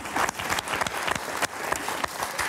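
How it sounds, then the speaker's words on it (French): A game show studio audience claps for a contestant, a brisk, fairly close burst of applause with individual claps audible, sustained evenly throughout. "On va l'applaudir."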